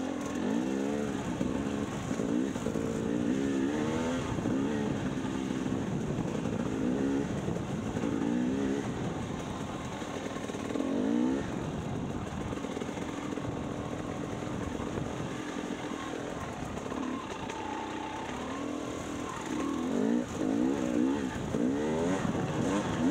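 A motorbike being ridden, its engine running steadily at close range with shifting revs and wavering tones for the whole stretch, no talk over it.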